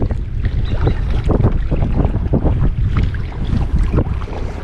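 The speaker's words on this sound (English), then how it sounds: "Well, that's a headwind." Strong headwind buffets the microphone while kayaking along a residential canal at North Creek, Ballina, NSW, a steady loud roar of wind noise with faint water movement beneath, no talking.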